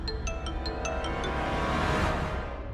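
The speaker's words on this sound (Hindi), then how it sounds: "करण, पंडित जी का फोन।" A phone rings with a short series of bright electronic chimes at the start, then a steady hum of background noise continues.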